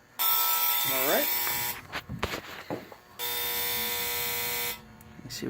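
A Flash Technology FH-306 tower light alarm sounds a loud, harsh buzzing tone in two long bursts, broken by a short gap filled with clicks and a brief rising whine.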